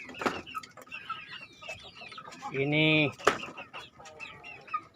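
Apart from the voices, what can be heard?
chickens clucking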